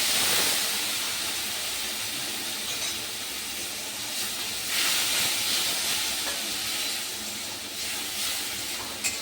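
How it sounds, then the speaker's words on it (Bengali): Water poured into a hot pan of spices while paneer is being cooked gives a loud, steady steaming hiss and sizzle that swells and settles over several seconds, close up and without speech. "এখন এখানে আমি হালকা জল দিয়ে দেবো।"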